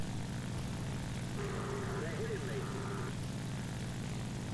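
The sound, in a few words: Ki-61 and Spitfire aircraft engines in a video game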